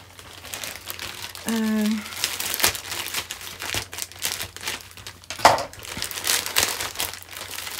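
A received parcel being unwrapped, crinkling and tearing packaging in bursts with rustles and a sharp rip, a short vocal tone partway through.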